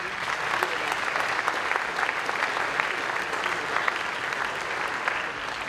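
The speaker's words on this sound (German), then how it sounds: "Applaus" At an Alternative für Deutschland party convention, a hall full of delegates applauds in a steady, even stream of clapping, moderately loud with sharper individual claps popping out, lasting the whole stretch.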